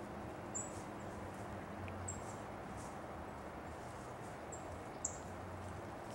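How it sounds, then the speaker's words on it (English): Small birds calling from bushes outdoors, a few faint, short high chirps scattered over steady broadband background noise. "There's all these little birds in the bushes, and they're all making noises."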